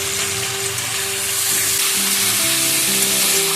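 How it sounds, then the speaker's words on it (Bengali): Spice masala cooks down with a little added water, giving a loud, steady sizzle and crackle throughout. "একটু জল দিয়ে মশলাটা কষিয়ে নেব।"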